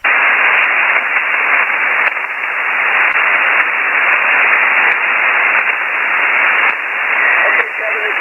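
Ham radio receiver hisses with a band-limited wash of static and noise while a QRP signal sent at one milliwatt comes through. The loud, steady hiss carries faint voice-like bursts and small dropouts.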